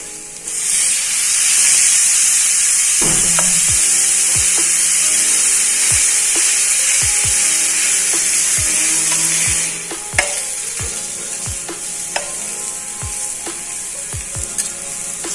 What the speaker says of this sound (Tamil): இப்போ மசாலா நல்லா எண்ணெயில ஃப்ரை ஆயிடுச்சு நம்ம இப்போ மீன் சேர்த்துட்டு